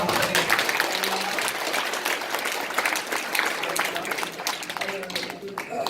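An audience at a symposium breaks into sustained, dense applause for several seconds. The clapping is steady and fairly loud, with a crowd murmuring faintly underneath.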